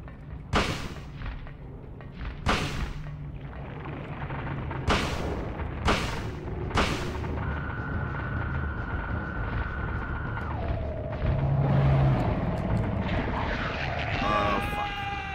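Handgun shots fired in the horror game Silent Hill: five heavy, sharp reports spaced a second or two apart, then sustained droning tones and game ambience.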